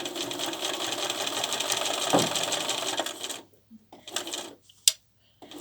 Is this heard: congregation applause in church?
no